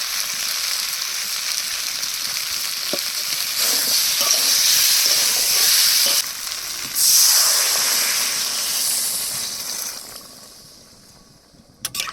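Cauliflower and potato fry in a pan with a broad, loud sizzling hiss that swells and dips as the pieces are tossed, fading near the end.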